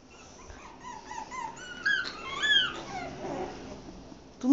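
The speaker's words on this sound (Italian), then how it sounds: "Ma che piange, Duki." A dog whimpers and whines close by: a run of thin, high, wavering cries that rise and fall, with a louder yelp near the end and no talking.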